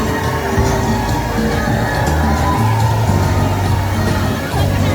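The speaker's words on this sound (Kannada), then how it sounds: "ಕ್ರೌಡ್ ಇದೆ ಇವತ್ತು. ವೆಡ್ನೆಸ್ಡೇ ಅಂತ ಜನ ಏನು ಕಡಿಮೆ ಇಲ್ಲ, ಎಲ್ಲ ಕಡೆ ಜನ ತುಂಬಿದ್ದಾರೆ." Dense crowd noise fills a busy Fun World amusement park on a weekday, a steady wash of many voices with occasional shouts and children's cries, loud and continuous throughout.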